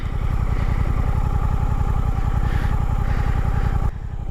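A Suzuki GSX-8R motorcycle idles while standing still on a road, a steady close rumbling engine throb with an even pulse that drops away abruptly near the end.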